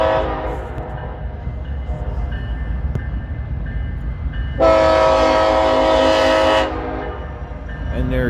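An eastbound freight train passes on a main line at Fremont, its low rolling rumble and clanking cars steady throughout, with a loud multi-tone horn blast sounding for about two seconds midway.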